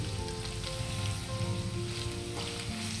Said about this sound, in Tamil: இஞ்சி பூண்டு பேஸ்ட் வாசம் போகிற வரையும் நல்லா வதக்குறோம்